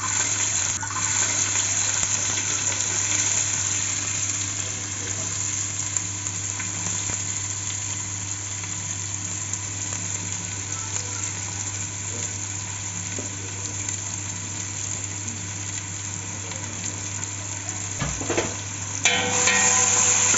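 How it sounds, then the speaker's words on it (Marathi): Onion frying in hot oil for a Marathi bhajichya chikulya recipe makes a continuous, even sizzle, with a couple of faint clanks of a utensil near the end and no speech. "तेल चांगलं गरम झालंय आता आपण यात कांदा टाकणार"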